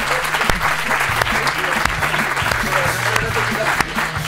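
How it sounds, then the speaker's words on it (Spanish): Studio audience applause in a Spanish comedy TV show taping, a dense, steady burst of clapping filling the room throughout, with a voice speaking over it. "Un aplauso para Maculki y para Ramón, por favor."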